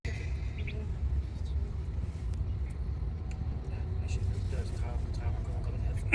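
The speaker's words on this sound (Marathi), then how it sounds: "तुम्हाला दाखवलेलं ट्रॅफिक संध्याकाळचं" Evening road traffic in Germany rumbles steadily, cars passing with a low continuous drone, a few faint bird chirps above, while people talk nearby.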